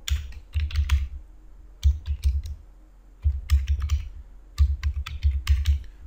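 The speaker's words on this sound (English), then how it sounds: "So now type in this text box. So I'll type here my name." Someone types on a computer keyboard in short, quick bursts of close key clicks, four clusters separated by brief pauses, clear and moderately loud with no speech.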